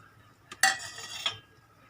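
A few clinks and scrapes of a spoon stirring cumin, pepper, coriander seeds, fenugreek and asafoetida in hot oil in a pan, brief metallic contacts over a faint sizzle, close by.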